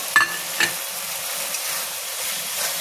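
Paneer stuffing stirred in a hot pan, with two sharp scraping knocks of the spoon at the start and then a soft, steady sizzle and occasional light scrapes, nobody talking.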